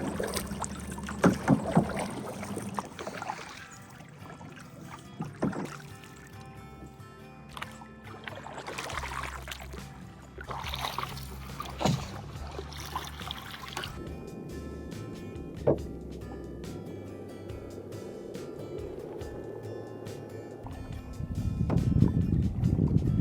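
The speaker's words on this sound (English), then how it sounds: "I'm just paddling back here." A canoe is paddled across Maligne Lake in Jasper, Alberta, with repeated paddle strokes splashing and knocking against the hull, wind buffeting the microphone and water swirling close by.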